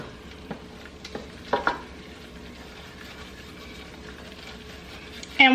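All-purpose flour cooking and being stirred in a pot for chicken pot pie, a quiet low sizzle with a few soft scraping stirs and a louder clatter at the end.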